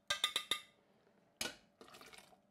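Cold water poured into a glass while preparing a hot sauce from fresh peppers: four quick glassy clinks, then a short splash and a softer trickling pour, all quiet and free of talk.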